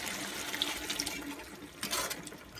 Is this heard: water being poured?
yes